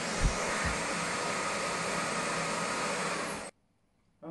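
A Makita 40V XGT cordless vacuum cleaner running in a steady, loud, close whine with a breathy airflow hiss, holding even for about three and a half seconds before cutting off abruptly into near silence.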